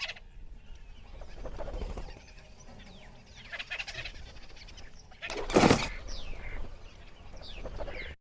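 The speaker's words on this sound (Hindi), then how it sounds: "देखिए चिड़ियों की चहचहाट सुनाई दे रही है।" Birds chirp outdoors in a calm natural setting. Short, scattered calls sound at moderate distance over a low background rumble, with one louder burst in the middle.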